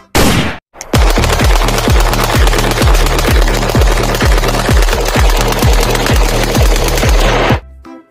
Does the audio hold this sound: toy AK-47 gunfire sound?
yes